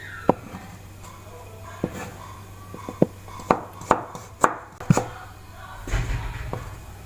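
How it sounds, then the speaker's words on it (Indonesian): Ginger sliced with a knife on a board, a series of sharp, separate chopping knocks spaced irregularly, some in quick pairs, close and moderately loud over quiet room background, with no talking. "Saya juga akan mengiris jahe ya."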